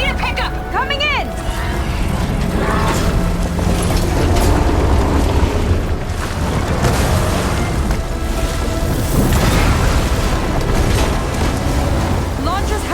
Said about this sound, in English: Blowing up that last heat sink might have reached the hull.